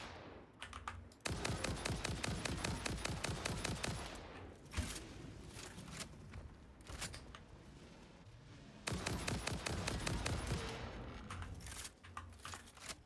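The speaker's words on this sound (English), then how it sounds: "I'm going to shoot you with a gun now." Rapid automatic gunfire in the video game Satisfactory, two long loud bursts of rattling shots separated by a few scattered single shots and quieter rattling.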